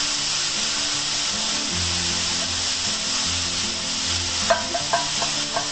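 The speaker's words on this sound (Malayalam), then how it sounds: "നമുക്ക് എല്ലാം കൂടി കൂടി ഒന്ന് മിക്സ് ചെയ്ത് കൊടുക്കാം" Grated coconut stirred into a water leaf stir-fry in a pan, a steady sizzle under repeated scraping strokes, with a few sharper knocks of a utensil against the pan near the end.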